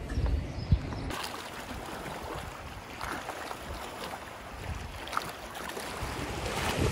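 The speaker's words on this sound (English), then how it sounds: "So I hope you can hear me over the crashing waves." Crashing ocean waves on the coast of New Zealand's North Island, a steady broadband wash of surf with gusty wind noise across the microphone, rising slightly toward the end.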